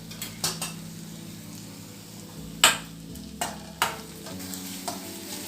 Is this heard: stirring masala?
yes